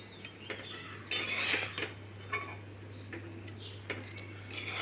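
Mustard seeds stirred in a pan over a gas flame: a metal spoon scrapes and clinks against the pan in irregular strokes, with a louder burst of scraping early on and a low steady hum beneath.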